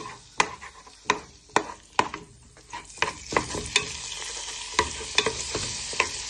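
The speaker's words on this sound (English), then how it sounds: "So you now want to place all your bacon and chorizo in the pan. And you want them to go nice and brown." Bacon and chorizo fry in a pan while a wooden spoon breaks them apart. Repeated close knocks and scrapes of the spoon sit over a light continuous sizzle, with no voices.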